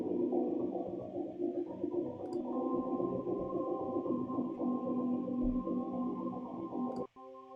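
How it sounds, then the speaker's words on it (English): Looped creepy mellotron choirs in a short-film score, a dense, droning wash of eerie sustained voices with a wobbly tape character, steady throughout before cutting off abruptly near the end. "It's just a loop of these creepy mellotron choirs."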